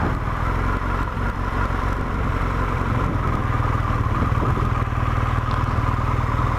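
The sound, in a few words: car engine revving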